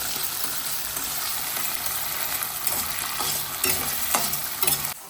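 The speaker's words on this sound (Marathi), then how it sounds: "पावटा घ्यायचा आपल्याला 2 मिनिटं परतून" Pavta field beans sauté and sizzle in a pan under a lid, a steady bright frying hiss with occasional stirring clinks and scrapes, close and continuous, no talking.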